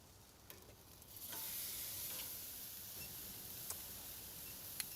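Steak sizzling on a Fire Magic grill after being turned, a steady close fry-hiss that swells after the first second and holds, broken by a few sharp ticks and pops.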